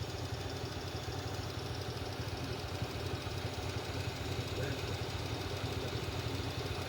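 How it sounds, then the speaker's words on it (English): Car engine idling with a persistent misfire: a continuous rough, uneven rumble with irregular knocking pulses, fairly close and steady throughout, with no one talking. "It's just misfiring like crazy."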